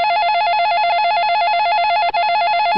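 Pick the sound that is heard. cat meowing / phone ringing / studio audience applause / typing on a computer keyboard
phone ringing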